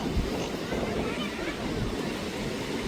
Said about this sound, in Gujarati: અને મોજો પડે છે એક નંબર, ખાલી જોઉં તમે.